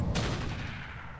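Weapon fire in the BattleTech game Roguetech, a single heavy blast with a low rumbling decay trailing off over about a second, no talking.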